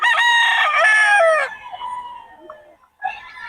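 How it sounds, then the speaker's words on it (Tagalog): Banded gamefowl roosters on a farm in Bocaue crow loudly and close, one long harmonic crow followed by fainter overlapping crows from other birds, with no talking. "puro solid ang mga manok ni Boss Albert, mga banded"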